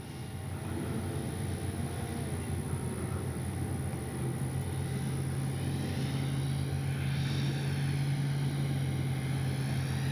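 An Avios Extra NG radio-controlled plane flies in to land in a light crosswind, its steady propeller drone sustained and fairly close throughout, with a constant tonal hum and outdoor wind noise and no talking.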